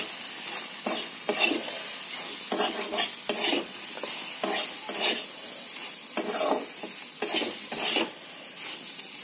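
Spices with chili powder and salt sautéing in a pan for a Bengali curry: a steady close sizzle broken by repeated scraping stirs, no voices.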